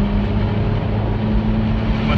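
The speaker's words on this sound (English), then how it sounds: "cruising along in a Ferrari Italia 458" A Ferrari 458 Italia sports car cruises along with a steady low engine drone and road rumble heard from inside the cabin, constant and fairly loud for the whole moment.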